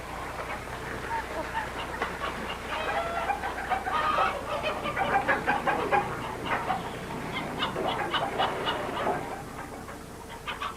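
Chickens cluck along a riverbank, a busy overlapping chatter of clucks that swells mid-way and fades toward the end over steady ambient noise.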